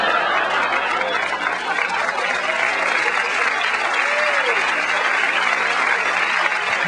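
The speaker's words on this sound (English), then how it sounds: "Good applause, fat people." Comedy club audience at a stand-up show breaks into loud, dense applause, sustained and even throughout, with some crowd noise mixed in.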